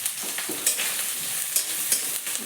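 A fish head frying in a pan for Bengali mung dal, a steady close sizzle with scattered crackles and a few stirring scrapes, no talk.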